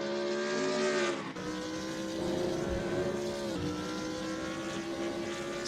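A BMW Z4 GT3 race car in a racing video game on the Lime Rock circuit, its engine note steady and loud with a continuous harmonic whine, shifting pitch with a brief dip near one second and another around three and a half seconds.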